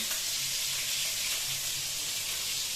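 Tomato sizzling in hot oil in a home kitchen, a steady loud hiss and crackle of frying that stays even throughout.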